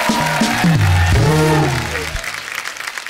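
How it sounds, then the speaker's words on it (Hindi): A studio audience applauds loudly on a Hindi TV comedy show, a dense steady wash of clapping that welcomes the guests while a voice speaks over it, then the clapping fades toward the end. "जोरदार तालियां हमारे सब मेहमानों के लिए"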